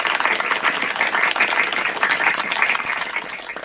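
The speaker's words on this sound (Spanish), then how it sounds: "un aplauso" Audience applause welcoming a speaker at a low-code production event: dense, steady clapping from a crowd, continuous and fairly loud throughout.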